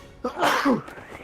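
A single sharp sneeze, close and fairly loud, standing alone with a faint room hum behind it.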